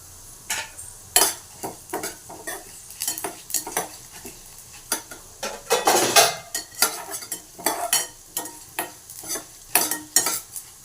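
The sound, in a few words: cumin frying in a pan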